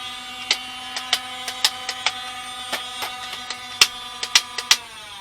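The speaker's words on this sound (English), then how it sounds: "Oh no, the X-shot darts are firing." A Nerf Fortnite IR blaster fires X-Shot foam darts, making a close series of sharp mechanical clicks and snaps at an irregular pace over a faint motor hum.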